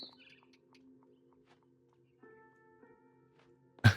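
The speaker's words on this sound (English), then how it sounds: "Then I heard chirping outside my window. It was a barn swallow going back to her nest." A barn swallow chirps in a quiet room from the game What Remains of Edith Finch, giving faint, scattered, high tweets with soft held tones underneath and a sudden louder knock right at the end.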